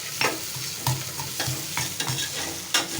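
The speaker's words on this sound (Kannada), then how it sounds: "ಈರುಳ್ಳಿ ಚೆನ್ನಾಗಿ ಫ್ರೈ ಆದಮೇಲೆ ಟೊಮೊಟೊ ಹಾಕ್ಕೊತಾ ಇದ್ದಾರೆ" Onions frying in plenty of oil for tomato bath, with a spoon scraping and stirring the pan in irregular strokes over a soft steady sizzle, close up and without voices.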